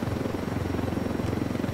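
A helicopter in the video game Ghost Recon Wildlands drones steadily, its rotor chop pulsing in a fast, even rhythm, loud and close with no talk over it.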